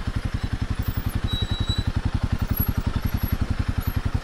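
A Royal Enfield Himalayan 452 on a Himalayan road in Nepal, with a steady rhythmic single-cylinder thump at a constant pace, close and prominent, without talk over it.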